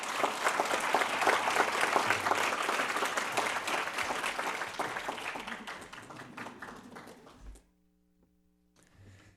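Audience applause welcoming a speaker to a lecture on creative communities, a full, steady clapping from a sizable crowd that thins into scattered claps and stops, followed by near silence and a faint rustle.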